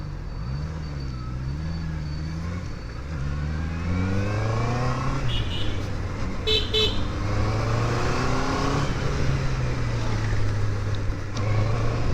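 Honda CB650R motorcycle engine while riding, heard through a closed helmet: a steady, loud drone with rising and falling pitch sweeps as the engine revs and shifts, plus wind buffeting, no talk.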